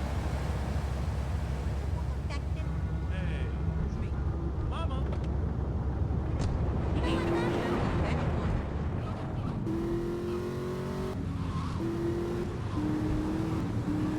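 Car engine in Grand Theft Auto on a PS2 emulator, a steady droning rumble that accelerates into higher revving whines with gear shifts, under game music and occasional talk.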